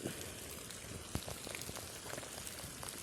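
Heavy rain pours steadily onto a flooded road in Maryland, a dense, constant hiss of drops and splashes with one brief louder spatter partway through, and no voices.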